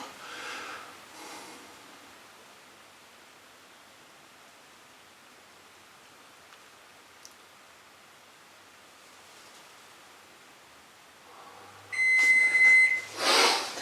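A kitchen timer, set while a Sabatasso's four cheese gluten-free thin crust pizza bakes, gives a short burst of steady electronic beeps near the end of a long, quiet stretch of faint room hiss.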